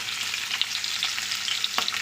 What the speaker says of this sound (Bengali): কড়ার মধ্যে দিচ্ছি এখন সর্ষের তেল এটা গরম হয়ে গেছে এখন মাছগুলোকে দিয়ে দিচ্ছি মুড়োগুলোকে